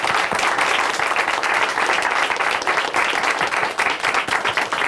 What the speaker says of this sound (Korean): 박수로 함께 축하해드리겠습니다.